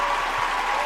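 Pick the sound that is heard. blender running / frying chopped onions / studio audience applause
studio audience applause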